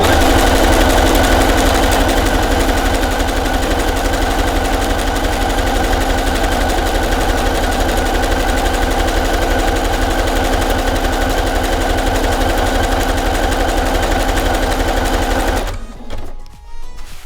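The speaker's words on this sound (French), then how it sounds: "on va faire un petit point au point zigzag tout autour pour consolider l'ensemble des pièces" A sewing machine runs loud and steady for about sixteen seconds, zigzag stitching around layered fabric pieces of a homemade knitting-needle holder, then stops abruptly.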